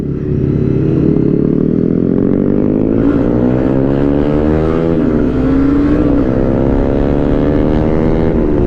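A Honda CBR300R with a single-cylinder 300cc engine revs loud and close, its pitch climbing and sliding in a continuous throaty drone with no speech.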